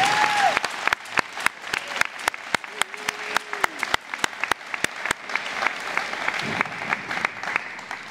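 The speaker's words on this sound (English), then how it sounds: "why don't we give another round of applause to our two citizens of the year" An audience at a high school National Honor Society induction ceremony applauds its two citizens of the year, steady clapping from a crowd with sharp individual claps standing out throughout, plus a brief faint voice near the start.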